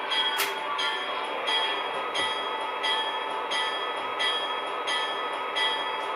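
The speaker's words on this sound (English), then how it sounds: "We're gonna couple up to these boxcars." A model railroad train creeps along the track to couple onto boxcars at a pulpwood paper industry, giving a steady rolling hum with regular, evenly spaced clicks close by.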